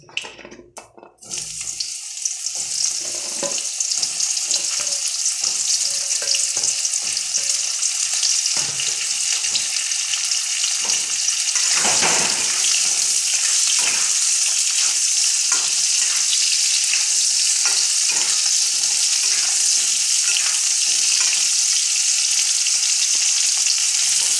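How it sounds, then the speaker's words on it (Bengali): Pointed gourd pieces fry in hot oil. A loud, steady sizzle rises after a brief clatter at the start and keeps up throughout, punctuated by light stirring scrapes, with no one talking. "একই তেলে আমি এবার পটলগুলোকেও ভাজা করে নিচ্ছি।"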